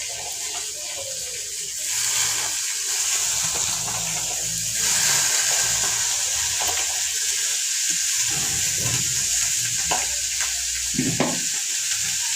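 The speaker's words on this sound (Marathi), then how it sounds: "पाणी गवार टाकून घेते." Cluster beans and water going into a hot iron wok on a home stove, a steady hiss and sizzle with a few clinks and stirring scrapes.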